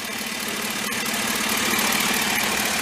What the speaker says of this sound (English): It's injector noise.